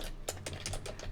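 Computer keyboard keys tapped in quick irregular bursts while code is written, close and fairly soft, with no talk over it.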